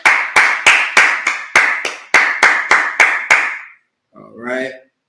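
A congregation at a Sabbath service claps in about a dozen sharp, evenly spaced hand claps, loud and close, followed by a brief spoken voice.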